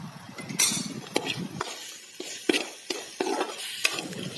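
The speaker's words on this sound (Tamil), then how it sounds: "இது கூட சேர்த்து நல்லா வதக்கிக்கலாம்" Gooseberry slices sizzle in a pan with repeated stirring and scraping clinks from a utensil, close by, with no talk.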